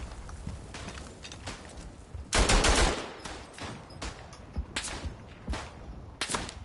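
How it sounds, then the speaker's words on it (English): Gunfire rings out across a WW1 trench battlefield in the game Verdun, with sharp scattered shots near and far and one louder, longer burst in the middle, with no talking. "Somebody's shooting at me."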